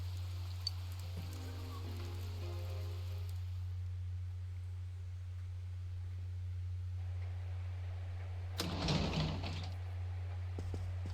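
Steady rain falls in the video game Persona 4 Golden, a soft continuous patter over a low constant hum, with a brief louder rustle near the end and no voices.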